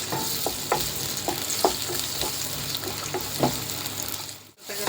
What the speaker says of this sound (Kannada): ಇದೇ ಆಯಿಲ್ ನಾನು ಒಂದು ಕಟ್ ಮಾಡಿದ ಆನಿಯನ್ ಸ್ವಲ್ಪ ರೋಸ್ಟ್ ಆಗಲಿ